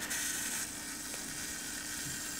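Self-timer mechanism of a Mamiya 6 K2 vintage medium format camera running, a steady close whirring buzz with fine mechanical ticking that holds for a couple of seconds, soft and continuous.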